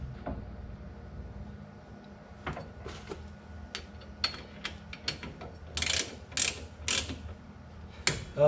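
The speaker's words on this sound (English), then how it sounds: "So now I will put the lock nuts on and tighten it down." Lock nuts are tightened onto a Wilwood brake bracket on a Camaro, giving repeated ratcheting clicks and metallic mechanical clatter in an uneven rhythm, close by and moderately loud.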